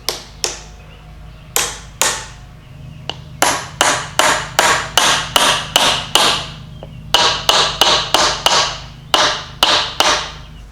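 A hammer taps a bearing cap into a vehicle U-joint, sharp metallic ringing strikes in uneven bursts, some quick runs and a few pauses, close and fairly loud with no speech.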